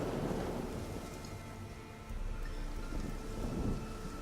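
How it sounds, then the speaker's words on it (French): Steady rain and rumbling thunder from a stormy night in The Witcher 3 video game, a continuous downpour hiss with low rolling thunder swelling through it, close and enveloping, with no voices. "Qu'est-ce qu'il pleut dans ce pays?"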